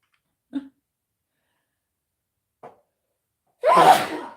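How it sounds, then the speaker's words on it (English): A small catch of breath, another faint one, then one loud, explosive sneeze close by. "I'm gonna sneeze here in a minute"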